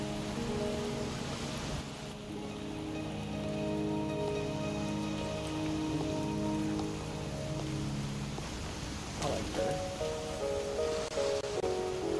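Steady rain falls in the Wuthering Waves video game, a continuous hiss of drops on surfaces beneath soft sustained game music, even and unbroken from start to finish.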